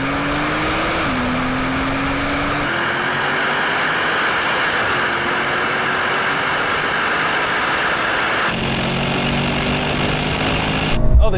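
A Brabus 900 Rocket R and an AMG car accelerate hard in third gear in a rolling drag race from 80 km/h, a loud, steady engine roar with rising pitch and gear-shift steps, heard from inside a car, with no speech.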